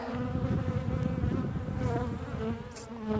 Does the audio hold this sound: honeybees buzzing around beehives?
yes